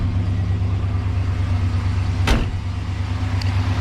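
A car engine idles while warming up after a cooling system flush, holding a steady low rumble with a brief sharp click partway through, close by and with nobody talking.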